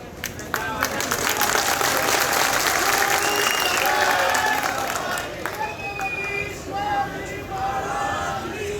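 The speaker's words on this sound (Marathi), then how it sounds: "टाळ्या वाजल्या गेल्या पाहिजे" A political rally crowd breaks into loud, sustained applause after a speech, a dense wash of clapping close and far that holds for several seconds, with scattered voices and cheers mixed in.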